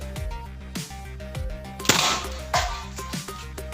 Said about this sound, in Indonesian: kita habiskan ini 12 peluru ya guys